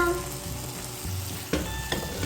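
Butter chicken sizzles and fries steadily in a pan while being stirred, a continuous close crackling hiss with a couple of soft scraping knocks from the spoon.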